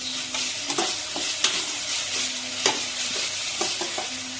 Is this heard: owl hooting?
no